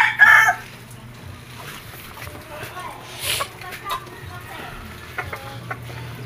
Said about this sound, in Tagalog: Mga alaga ni Totoy na manok niya